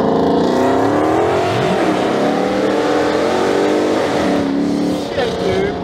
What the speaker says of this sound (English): It's freaking loud.